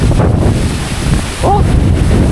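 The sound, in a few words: strong wind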